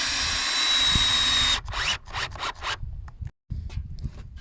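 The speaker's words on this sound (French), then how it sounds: "on vient tout visser. On vient tout visser ensemble dans le petit trou en fait qui est déjà pré-percé." A cordless screwdriver drives screws into pre-drilled holes in Velux roof window parts, a sustained motor whine followed by short buzzing bursts and pauses, close and loud.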